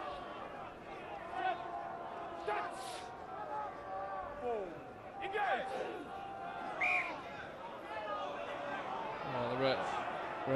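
A rugby stadium crowd jeers and whistles at the referee over a delay during an Ulster match, a loud, sustained din of boos and shouts with a commentator talking over it.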